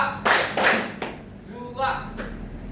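Hands clap in short bursts during a clapping concentration game, with a couple of sharp claps near the start and more later, while a voice calls out counts between them.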